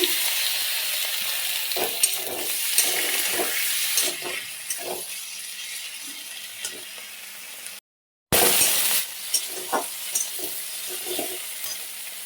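Tomato added to onion, ginger and garlic frying in a pan, a steady sizzle with repeated scraping stirs, a brief cut of silence, then louder sizzling resumes.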